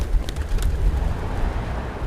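City pigeons in Berlin give soft, low cooing close by, a murmuring burble over light background noise with no talk.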